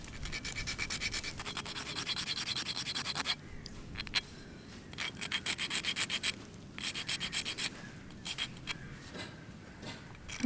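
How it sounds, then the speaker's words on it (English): Hand filing of handmade buttons outdoors, a steady rasping scrape in repeated close strokes with a short pause midway, no talking. "So I'm going to continue filing this."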